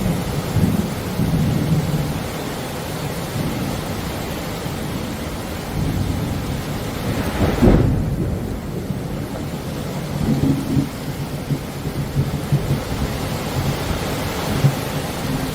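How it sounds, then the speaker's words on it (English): Heavy rain pours steadily during a nighttime rainstorm, and a loud crack of thunder breaks out in the middle and rumbles away, with softer rumbles after it; nobody speaks. "Thunder was ridiculously loud"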